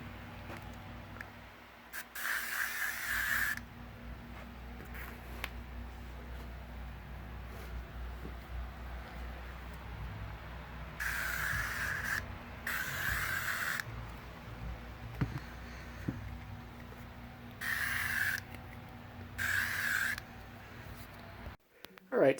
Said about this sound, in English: I'm going to sanitize my lunchbox here. And I'm going to take off my shoes and also spray them down as well.